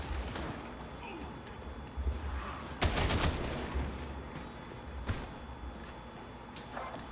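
Autogun fire in the video game Warhammer 40,000: Darktide, heard as a loud dense burst of rapid shots with a sharper crack a couple of seconds later, over a busy low game rumble.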